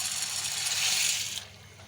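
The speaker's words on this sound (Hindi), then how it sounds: "पानी उबल रहा है और मैं इसमें मैकरोनी डालने लगी" A pot of boiling water in a home kitchen as dry macaroni is poured in, giving a loud rushing, rattling hiss that cuts off abruptly near the end, leaving a quieter bubbling simmer.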